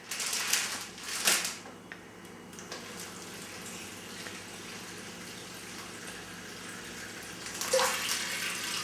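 Water poured into a plastic bag in a kitchen while fermenting sauerkraut in a jar, two short splashing pours near the start followed by quiet rustling and another brief trickle near the end.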